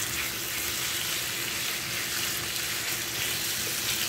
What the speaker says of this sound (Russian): Добавляем в сковородку совсем мало сливочного масла. Вот так вот добавляем сюда нашу грудку.